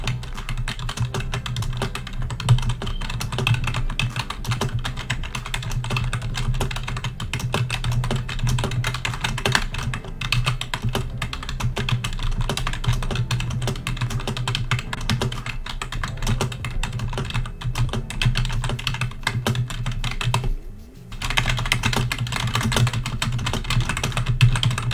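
Rapid, continuous clatter of computer keyboard keys during a typing race, dense and steady for the whole stretch with one brief pause near the end, close and alone without talk.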